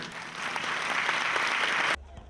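Dense, steady applause from an audience at the opening of the CINE OP film festival, filling the space evenly for about two seconds before cutting off abruptly.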